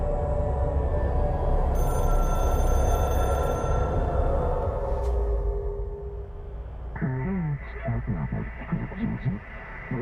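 A telephone rings in the video game Control, a steady electronic ringing over a loud droning ambient bed; after several seconds the ring stops and voices talk over a quieter background.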